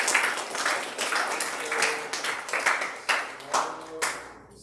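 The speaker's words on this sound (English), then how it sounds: "Let's all just give a big round of applause for our events team" An audience at an event gives a round of applause, with lively, uneven clapping over several seconds that thins out near the end. A voice is faintly heard beneath it.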